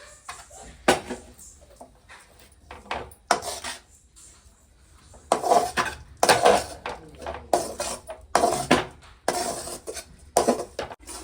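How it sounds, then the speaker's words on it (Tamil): Cooked spinach being scooped from one pot into another, with repeated metal spoon scrapes and clanks against the pans in bursts, loud and close, with no talking. "இப்போ வந்து நான் இதே வந்து வேறு பாத்திரத்தில் மாற்றி வச்சுக்கிறேன்"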